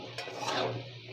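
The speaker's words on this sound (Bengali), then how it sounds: "হলুদ দিয়ে এটা নেড়ে চেড়ে" Fried potatoes being stirred with turmeric in a pan, a short scraping rub of a utensil against the pan bottom, close and fairly loud, with nobody speaking.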